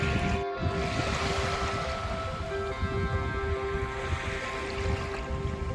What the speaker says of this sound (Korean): 시원한 파도 소리를 들으며 해변을 꼭 걸어보시기 바랍니다.